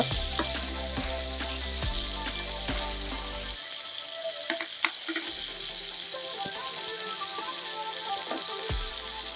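Fish frying in a pan, a loud continuous sizzle with crackling pops and a few scraping clatters as the pieces are turned, no voices.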